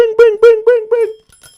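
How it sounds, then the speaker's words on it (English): A bright, ringing bell dings five times in quick, even succession, then fades out. "So you can get that bell notification every single time we go live."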